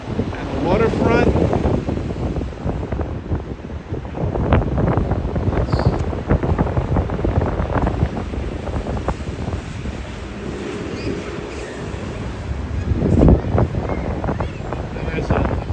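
Strong wind gusting across a New York City waterfront, a steady heavy roar buffeting the microphone with water and boat noise beneath, while someone talks throughout.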